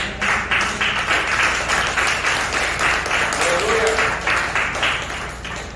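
A church congregation applauds during a sermon, a full room of hands clapping in a steady, slightly pulsing rhythm for several seconds, with a brief voice rising over the clapping partway through.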